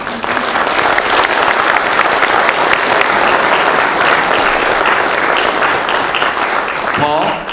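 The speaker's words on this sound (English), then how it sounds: "That first deserves a round of applause, yes?" Loud, sustained audience applause at a 2019 police honor awards program, saluting a child abduction response team; dense clapping fills the whole stretch and fades slightly at the very end, where a voice briefly rises.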